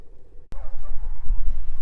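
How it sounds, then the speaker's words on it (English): Farmyard chickens clucking near their coop, close low throaty clucks and murmurs that start after a brief quiet moment and continue steadily. "Now the chickens have their chicken coop."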